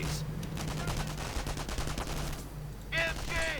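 Continuous rapid MP40 submachine gun fire rattles in a WWII video game battle, dense overlapping bursts filling the scene, followed by brief shouting voices near the end.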